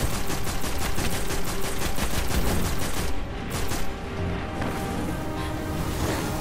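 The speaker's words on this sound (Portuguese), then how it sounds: "senão vem tiro de tudo que é lado" Relentless gunfire from the video game Destiny, in a battle across the Plaguelands, rattles as dense overlapping automatic bursts and impacts, loud and continuous throughout, with no talk over the din.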